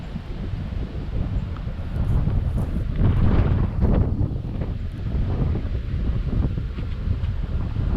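Strong wind sweeps across an open golf course at a disc golf event, pounding the microphone in a heavy, continuous roar that swells around the middle, with no voices.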